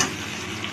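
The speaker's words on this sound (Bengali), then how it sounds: "পেঁয়াজটা ফ্রাই হয়ে গেছে, গাজরটা আমি ভেজে দেবো" Carrot pieces fry in oil in a pan after onions, giving a short, steady hiss of sizzling with no speech.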